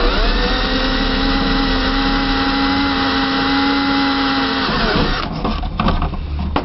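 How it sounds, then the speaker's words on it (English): An electric drill bores through pipe, stepping up through gradually larger bit sizes; a steady, loud motor whine runs continuously before cutting off, followed by scraping and handling noises. "Just keep increasing the drill sizes a little bit."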